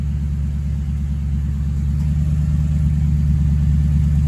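A Ford F100 pickup engine idles steadily nearby: a continuous, even low rumble with a faint mechanical hum and no revving, and no voices.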